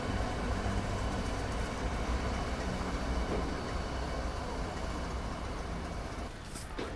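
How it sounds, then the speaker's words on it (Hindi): Twin powerful 6G railway locomotives at a small two-platform junction station give off a heavy, continuous broadband rumble, steady and close, with a faint voice under it. "बहुत पावरफुल लोकोमोटिव है ये"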